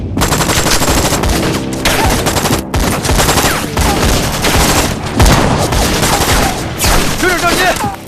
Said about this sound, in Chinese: 3排交上火了。